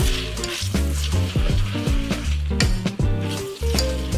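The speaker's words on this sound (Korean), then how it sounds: "이렇게 해서 이제 참기름을 넣고 다시 한 번 볶는 거예요" A seasoned vegetable side dish, dressed with sesame oil, sizzles and stir-fries loudly in a pan, with steady frying hiss and repeated clanks of a utensil scraping and tossing the food.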